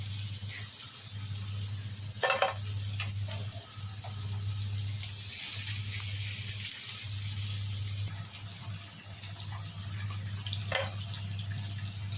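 Tilapia fillets fry in hot oil with a steady, close sizzle, broken by a few sharper crackles and spatters as pieces are turned.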